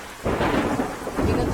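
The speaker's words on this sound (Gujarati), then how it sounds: "ધોધમાર વરસાદ વરસી રહ્યો છે।" Heavy rain pours down in Khambha Gir, Amreli, a loud, continuous roar of falling water with surges in intensity and no voices.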